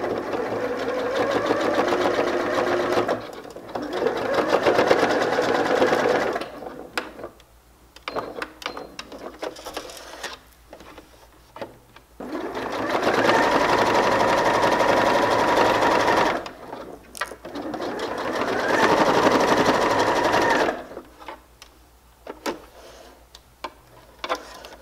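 A sewing machine runs a long basting stitch through a fleece hat, with several sustained runs of fast, even whirring broken by pauses and handling clicks, loud and close.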